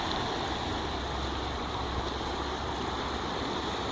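A flooded river running dangerously high, nearly up to the road, gives a dense, steady rushing roar that holds unbroken and fairly close throughout.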